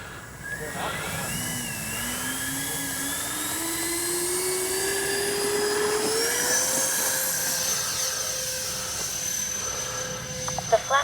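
A Dynam ME 262 radio-controlled jet speeds down the runway and takes off. Its thin electric whine climbs steadily in pitch over several seconds and holds high at a moderate distance over outdoor background noise.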